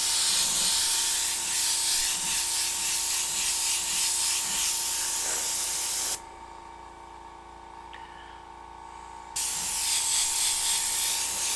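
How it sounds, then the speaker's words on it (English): A spray bottle mists water onto illustration board in steady hissing bursts for about six seconds, stops for a few seconds of quiet, then sprays again close up. "So I'm just going to mist it in like this."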